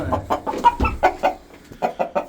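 A rooster on a farm clucks in a quick, steady run of short, close calls, with no other sound around it.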